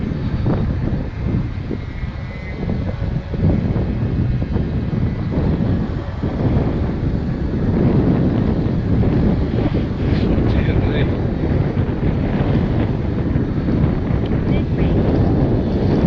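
Wind roars and buffets across the microphone during an RC model Cessna TTX flight, a loud, continuous rushing noise with a faint motor drone mixed in, steady for the whole stretch.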